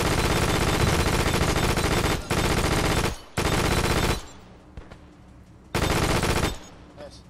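Sustained machine-gun fire rattles through a WW2 battle video game in long, loud bursts, broken by a few short gaps. Between bursts a quieter background and scattered distant shots are heard.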